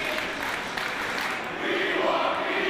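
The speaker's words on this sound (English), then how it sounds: "listen to this capacity crowd here at the Pennsylvania National Guard Armory" Capacity crowd at a wrestling tag team match in the Pennsylvania National Guard Armory, a dense, steady roar of cheering and chatter that swells slightly louder near the end, with no single voice standing out.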